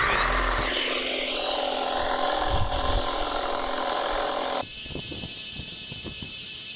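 A GTM HT56/560BL cordless hedge trimmer with a 56 cm blade cuts grass like a mower, its steady high electric whine droning close and loud, then shifting abruptly to a different pitch near the end.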